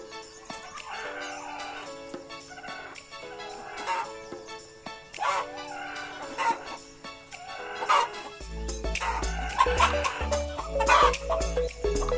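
Hens cluck in short, irregular bursts throughout, fairly close, with scratchy rustling between calls and a low rumble joining partway through.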